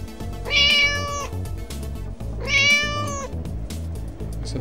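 Two clear electronic meows from a blue toy cat, spaced about two seconds apart, over a faint hum of background noise.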